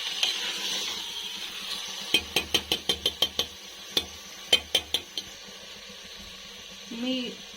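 Spices frying in oil in a pan are stirred with a metal spoon, giving a run of sharp, rhythmic clinks against the pan over a soft sizzle, with a short pause between two bursts of scraping.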